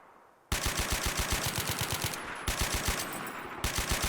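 Pecheneg machine gun in a Modern Warfare match fires long rapid bursts of evenly spaced, loud close shots with a short pause midway, preceded by a half second of quiet background.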